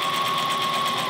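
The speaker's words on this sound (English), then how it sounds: "zigzag stitch it all the way down" Steady high-speed whir of a sewing machine running a zigzag stitch down a bodysuit seam, continuous and close with an even mechanical buzz throughout, no talking.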